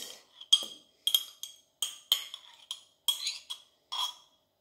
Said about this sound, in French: je vais reprendre le bol où il y avait les œufs et puis je vais mélanger mon yaourt